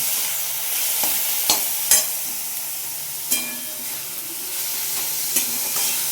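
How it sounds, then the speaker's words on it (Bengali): Chicken fries in a hot pan with a continuous soft sizzle, broken by a few sharp metallic knocks and scrapes as a spatula stirs the pieces. "ভাজা ভাজা হোক, তারপরে এই মশলাগুলো দিয়ে দেবো।"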